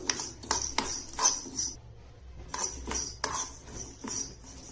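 Toor dal being dry-roasted in a pan over a low flame, with repeated scraping and clinking of a metal spoon against the pan in short bursts, close and fairly quiet, with a brief pause midway.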